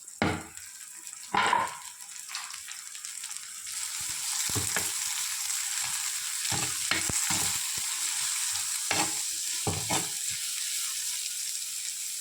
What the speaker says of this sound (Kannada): ಫ್ರೈ ಆಗಿ ಬರುವಾಗ ಇದಕ್ಕೆ ಟೊಮೆಟೊ, ಶುಂಠಿ, ಕಾಯಿ ಮೆಣಸನ್ನು ಹಾಕೋದು.